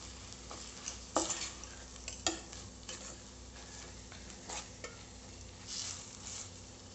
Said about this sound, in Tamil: லோ ஃப்ளேமில் வச்சு முதல்ல முட்டையை நல்லா கலந்து விடலாம்